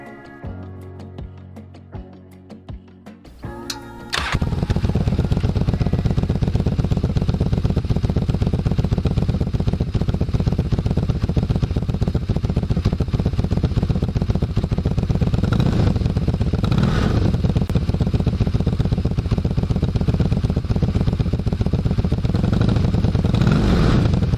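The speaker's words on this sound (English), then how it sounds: "This V4 really sounds great on good pipes." A Suzuki GV1200 Madura V4 motorcycle engine fires up after a few seconds of quieter noise, then holds a loud, deep, continuous exhaust rumble with slight rises in revs.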